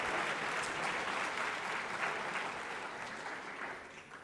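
An audience at a meeting applauds with sustained, dense clapping that stays even for several seconds and then slowly fades at the end.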